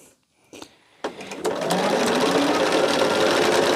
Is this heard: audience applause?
no